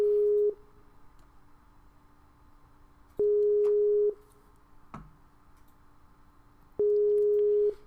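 A telephone call tone sounds as three steady, clear beeps of about a second each, separated by longer silent gaps over faint background hiss, with no talking.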